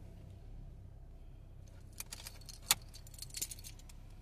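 Car keys jangle in the ignition of a Ford Focus, a few faint metallic clinks and one sharper rattle over a quiet background hum.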